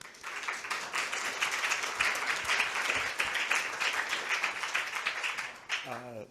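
An audience claps steadily in warm applause welcoming a speaker to a talk, a dense crowd of hands sustained for several seconds before fading out, with a voice starting at the end.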